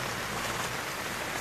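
Steady rain falls on surfaces outdoors at a protest sit-in in front of a market, a dense even hiss with no pauses or voices.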